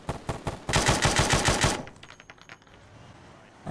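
Rapid automatic gunfire in the Arma military video game, a burst of about a dozen sharp shots lasting over a second, followed by fainter scattered distant shots.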